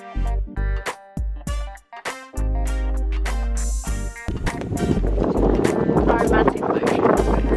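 A tour boat cruising on the Mekong River near Luang Prabang, Laos: a stretch of tonal, music-like sound gives way to a steady, loud rush of wind and water, with voices faintly present.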